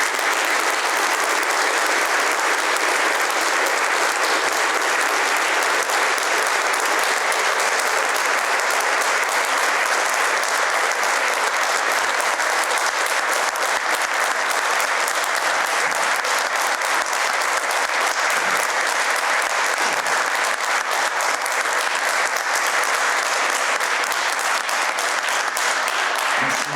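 Sustained applause fills a municipal council installation meeting in Lambersart, steady clapping from a seated audience lasting throughout with no break, dense and even in loudness.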